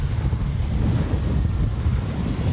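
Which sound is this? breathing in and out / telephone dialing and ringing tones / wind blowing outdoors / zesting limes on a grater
wind blowing outdoors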